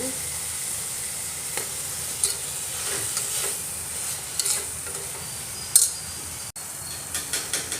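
Ginger, garlic and mint sizzle steadily in a hot pan while a spoon stirs them, with soft scrapes and taps breaking through the continuous frying hiss.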